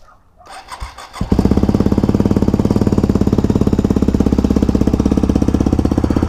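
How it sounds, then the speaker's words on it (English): A Yamaha WR250X factory supermoto motorcycle cold-starts after a few faint handling noises, its single-cylinder engine catching and settling into a loud, fast, evenly pulsing idle close by. "But first, one last cold start"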